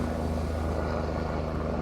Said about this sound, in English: Got the helicopter going above.